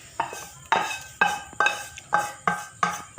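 A spoon scrapes and clanks against a metal pot as fried onions are stirred into kadhi, six or seven sharp regular strokes about half a second apart, close and clear, with no talk.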